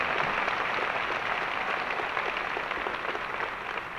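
Audience applause at the Hoopalooza 2015 event: a steady, dense wash of many hands clapping that holds at an even level for the whole stretch, with no voices on top.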